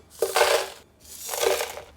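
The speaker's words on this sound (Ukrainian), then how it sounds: "Додаємо лід краш." Crushed ice pours into a blender for a white-rum tiki cocktail, twice, two loud crackling, rattling bursts separated by a short pause.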